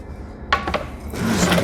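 A wire brush scrapes across a wooden board being prepared for a charred shou sugi ban finish, with a few short scratchy strokes followed by a steadier, louder rasping scrub, close and alone.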